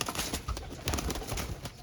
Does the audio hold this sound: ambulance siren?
no